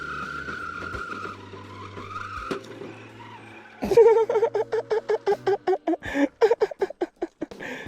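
RC scale crawler on Predator compound tires spinning on granite rock on a Sierra trail: a whining motor hum, then a burst of rapid, chattering tire-spin pulses, close and loud.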